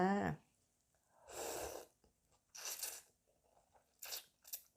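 Close, quiet crunchy bites and chewing of Thai rice noodles from a bowl of boat noodle soup, in several separate mouthfuls with a breath between them.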